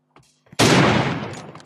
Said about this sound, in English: That gun is loud.